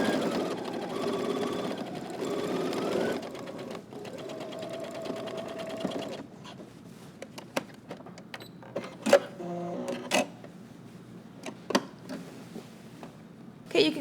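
A sewing machine topstitches the fly front of a pair of slacks, running in a steady whirring burst for several seconds, then giving way to a series of short separate clicks and thumps.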